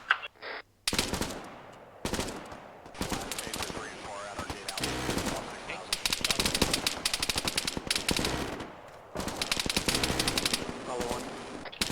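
Rapid automatic gunfire from the military video game Arma 3, with bursts and tapped shots crackling loudly and almost continuously across the clip, mixed with gameplay sounds and some radio-style talk.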